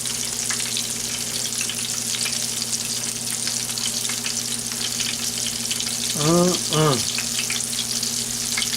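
Chicken frying in a pan for fried chicken, a steady dense sizzle with a low hum underneath and a brief soft rise near the end.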